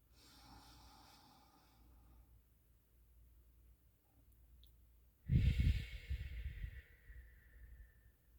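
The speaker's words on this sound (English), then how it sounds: "Let's just take one more deep breath." A single deep inhale and exhale during a calm, meditative moment, breathy and close, rising sharply in loudness after a few seconds of quiet room hush, then trailing off.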